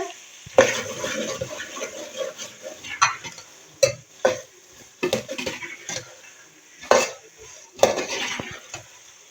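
Black chickpeas being cooked in a pan with green chillies, heard as scattered clinks and scrapes of a utensil against the pan over a faint soft frying hiss, with no voices.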